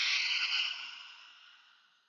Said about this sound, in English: with your hand, breathe into your hand. Inhale,